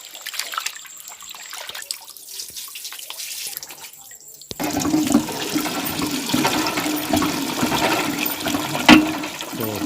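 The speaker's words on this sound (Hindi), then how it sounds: "गंदा पानी ही हुआ है तो निकल जाए।" Dirty rinse water drains out with a steady gushing, gurgling rush that starts abruptly partway through and keeps going loud and close, after a quieter stretch of faint trickling.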